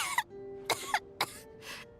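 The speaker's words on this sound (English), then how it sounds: "How long have you had that cough, Tonya?" A character in Genshin Impact coughs repeatedly, four separate harsh coughs spaced about half a second apart, close and fairly loud over a quiet background.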